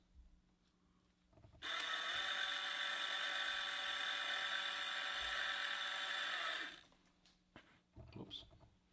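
A reamer cutting bronze valve guides in an LS9 Corvette ZR1 cylinder head, lubricated with honing oil, gives a steady, loud high-pitched whir lasting about five seconds, starting and stopping abruptly, with quiet shop noise before and after.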